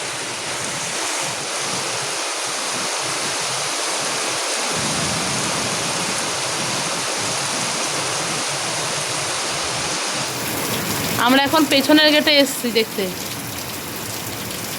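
A heavy evening rainstorm with strong wind pours down in a dense, unbroken hiss and roar that stays loud throughout, with a person speaking briefly over it near the end.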